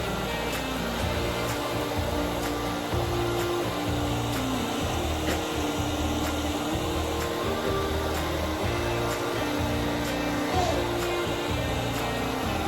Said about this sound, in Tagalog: I am not very good with the hair dryer.